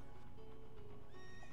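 Epona, Link's horse in the video game Ocarina of Time, lets out a single close, clear whinny over game background music, with no talking.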